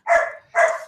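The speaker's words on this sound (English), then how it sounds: "If you hear a lot of barking in the background, that's my 10-month-old lab puppy playing with my girlfriend" A ten-month-old Labrador puppy gives two quick barks in succession, close and fairly loud, with nothing else around them.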